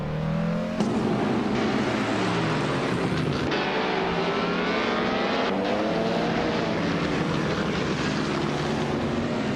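Racing game engines, including a 1950 Ferrari 375 F1, roar loudly and continuously, several overlapping engine tones rising and falling in pitch as cars pass and shift, no talk.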